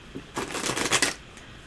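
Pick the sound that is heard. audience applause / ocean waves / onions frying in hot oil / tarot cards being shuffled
tarot cards being shuffled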